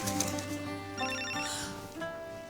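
A telephone rings with a steady electronic trill, loud and close, sounding alone for a couple of seconds in an indoor setting.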